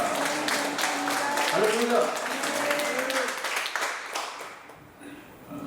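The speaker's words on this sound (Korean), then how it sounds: "아름다운 장소로 하나님께서 이렇게 이전할 수 있도록 도와주신 하나님께 영광의 박수를 올리겠습니다." A church congregation applauds during a Sunday worship service, a dense wash of clapping under a voice leading praise, thinning out toward the end.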